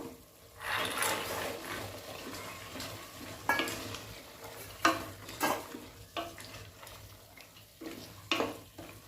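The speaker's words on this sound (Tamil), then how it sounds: "இப்போ நம்ம பச்சை பட்டாணியை போட்டுறோம்." Green peas cooking in masala gravy for a peas biryani, a soft bubbling sizzle broken by repeated spoon scrapes and clinks against the pot, irregular and fairly close.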